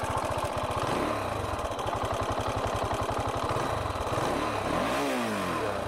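A Honda Dominator motorcycle engine idles with a rough, uneven putter close by, briefly blipping the throttle near the end before settling again.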